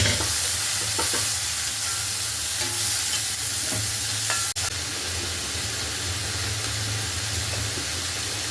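Onion, green chili and garlic sautéing in a hot pan, a steady close sizzle and frying hiss with occasional stirring scrapes and a brief clatter partway through.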